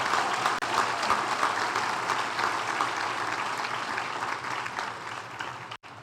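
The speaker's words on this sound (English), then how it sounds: "Can I please have a round of applause for our second group of nominees?" A room of attendees at an awards event applauds a group of nominees with dense, even clapping that holds steady and cuts off sharply near the end.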